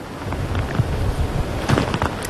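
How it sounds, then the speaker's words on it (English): Strong hurricane wind gusts roar and buffet a microphone downtown at the Battery, a loud, continuous rumbling rush with swelling surges, close and alone. "The gusts are coming in so strong right now"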